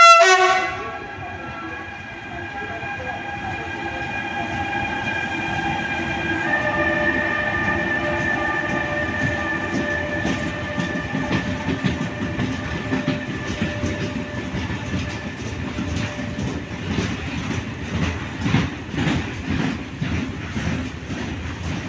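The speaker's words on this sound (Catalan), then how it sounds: "Atenció, tren sense parada." A freight train rushes through a station without stopping, horn sounding at the start, then a long rumbling roar with rhythmic clattering of wheels over rail joints.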